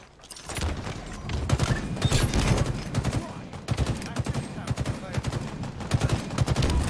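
Battle rifle fire in Halo Infinite, loud rapid bursts of shots mixed with other combat noise, with a voice talking over the gunfire.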